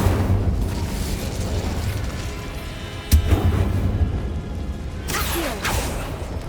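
Fire spell Incendio cast in the Hogwarts Legacy video game, heard as a sudden sharp burst and whoosh of flame over a dense rumbling background, followed by a second rushing flare near the end.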